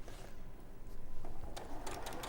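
A sewing machine stitches steadily at close range, its rapid mechanical whir continuing through the short stretch with a brief louder burst near the end, on a quilting and bag-making sewing show.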